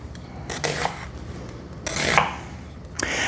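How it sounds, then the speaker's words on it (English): Onion being chopped finely with a knife on a board, a few bursts of quick rasping cuts separated by short pauses, close and fairly clear. "I'm going to go a little finer on my onion than what I do with most things."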